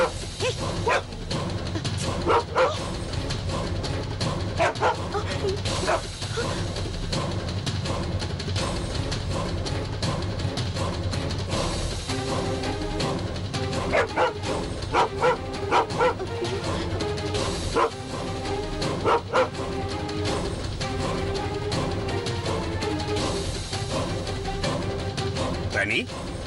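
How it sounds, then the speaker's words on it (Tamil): Dog barking and yelping indoors in a house during a Tamil TV serial scene, heard under a continuous dramatic music score with bursts of excited voices. "நாய் வீட்டுக்குள்ள வந்து கொலைக்குது."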